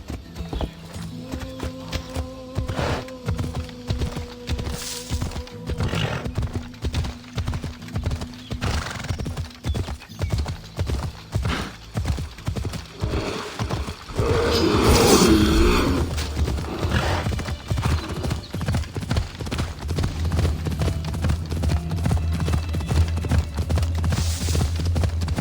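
A horse gallops in Assassin's Creed Odyssey, with fast rhythmic hoofbeats that keep on throughout and a loud neigh midway, over game music.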